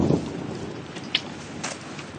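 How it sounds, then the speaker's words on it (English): Rain falls steadily at a distance with a low rumble of thunder at the start, soft and continuous with a couple of faint sharp drips. "Is it raining? That sounds like rain."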